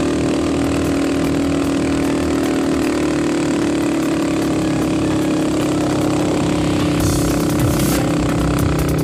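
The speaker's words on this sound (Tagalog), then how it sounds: "Malakas talaga yung motor tayo." A motorcycle engine runs steadily throughout on a ride toward a scenic viewpoint, a constant mid-pitched drone with no pauses and wind buffeting, brief brighter noise near the end.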